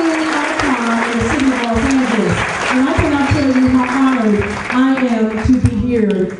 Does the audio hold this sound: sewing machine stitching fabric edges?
no